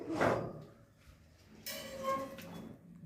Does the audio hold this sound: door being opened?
yes